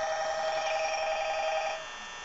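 Telephone ringing in the Five Nights at Freddy's video game, a steady electronic ring held for about two seconds before dropping off, fairly loud and with no talking over it.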